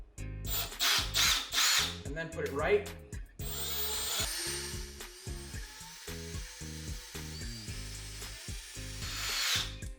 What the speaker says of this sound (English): before you go to drill, run it in reverse, run it left to make a little divot first